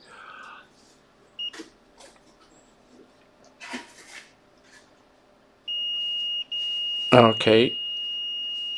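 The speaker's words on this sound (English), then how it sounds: "we are trying to find a line which has got short to line and we have got beep" A multimeter gives a steady, high continuity beep while probing a shorted line on a Samsung Galaxy circuit board. The tone holds for several seconds with one short break, and someone speaks briefly over it after quieter bench noises.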